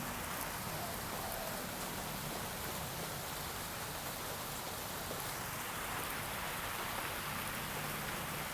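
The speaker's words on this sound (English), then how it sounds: "it's raining now" Rain falling in Bali, a thick continuous wash of drops close by, steady and unbroken for the whole stretch with no speech.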